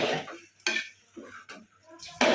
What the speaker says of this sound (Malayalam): ഇനി ഇതൊന്ന് നല്ല തോലെന്ന് ഇളക്കി കൊടുക്കാം